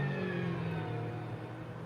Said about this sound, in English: listen to this car, bro. Listen to this beast.